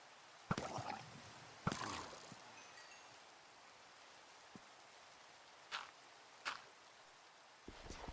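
Rain falling in Minecraft: a faint, steady patter of drops runs beneath a few sharp, louder knocks and splashes that break through at intervals.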